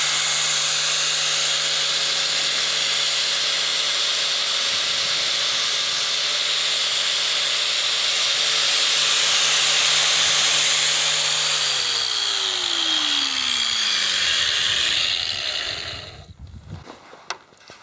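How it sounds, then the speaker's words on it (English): A power grinder works down a headlight skull part for a Jeep with a loud, continuous hissing whine, then its tone drops as the tool spins down and stops, leaving quiet handling noises. "So yeah, let's just keep grinding."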